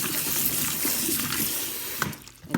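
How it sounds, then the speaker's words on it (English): Water running and splashing as peeled potatoes are rinsed a second time in a kitchen sink or bowl, a steady close gush with brief sloshing bursts near the end and no talking. "I'll add a little more water and rinse the second time."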